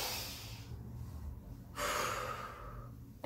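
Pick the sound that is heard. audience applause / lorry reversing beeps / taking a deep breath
taking a deep breath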